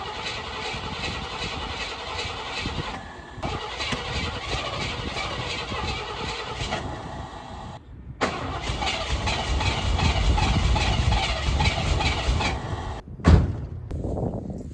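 Cammed Chevrolet Corvette C5, started after sitting unused for six to seven months, running with a steady rough engine drone, a brief pause and then a louder stretch, ending in a sharp thud.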